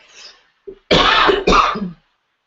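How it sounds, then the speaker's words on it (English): Two loud, harsh coughs close to the mic, preceded by a faint breath and a small throat sound, then silence. "why do I have to keep coughing?"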